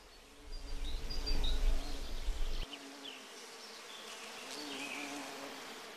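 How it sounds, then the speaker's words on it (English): Bees, flies and other insects buzzing over a flower-filled meadow with orchids, a loud close buzz passing for the first few seconds, then fainter scattered buzzing with faint bird chirps behind. "The flower-filled meadows attract huge numbers of insects."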